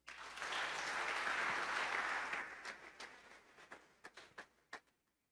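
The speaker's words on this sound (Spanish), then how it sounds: "Dele un aplauso a Jesús." A church congregation breaks into loud, full applause that holds for a couple of seconds. It then thins out into a few scattered, separate claps that fade to quiet.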